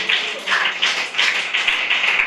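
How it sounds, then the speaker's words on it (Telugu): Loud applause from a church congregation during a Christmas sermon on Jesus' birth in Bethlehem, steady clapping with a few swelling bursts and no talk over it. "చప్పట్లు కొట్టండి గట్టిగా."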